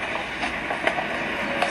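Riding a train toward New Jersey: a steady rumble and hiss of the carriage in motion with faint rhythmic clacks and light knocks from the wheels, heard from inside for just under two seconds with no talk.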